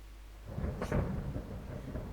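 Faint thunder rolling in a rainy thunderstorm in Kingdom Come: Deliverance, a low rumble swelling in with a brief crackling peak near the middle, then grumbling on softly over light rain.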